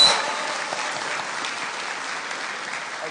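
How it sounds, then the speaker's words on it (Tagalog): An audience at a city government event in the Philippines bursts into loud applause with cheering, a dense, steady wash of clapping that begins strongly and carries on evenly before tapering slightly. "Bigyan po natin ng malakas na palakpakan na may kasama sigawan"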